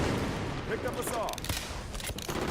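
SAW machine gun in Halo 5 on the Riptide map, sustained loud firing with dense overlapping shots, and voices speaking over the gunfire.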